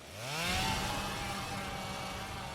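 Running chainsaw from the Evil Dead (2013) film, a loud revving engine whine that rises sharply then holds a steady snarling drone with no talk.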